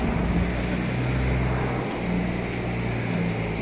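A parked car's engine idles at night with a steady low drone and constant broadband hum, unbroken and fairly close, with no voices heard.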